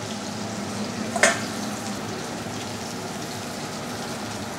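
Lamb shanks sear in hot oil with rosemary, giving a steady soft sizzle with one short sharp crackle early on.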